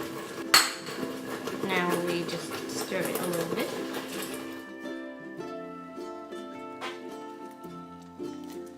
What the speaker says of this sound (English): Now we just stir it a little bit.